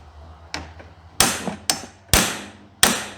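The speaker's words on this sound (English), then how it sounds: "Let me get a little more aggressive with the whooping of the hammer" A hammer strikes a stuck part on a 1939 John Deere tractor, five sharp metallic blows in an uneven rhythm, the first lighter and the rest loud and close, each ringing briefly.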